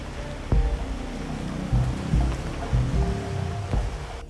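Rain falls steadily outdoors in a broad, continuous wash, with a few louder knocks and bumps from nearby over the patter. No one speaks.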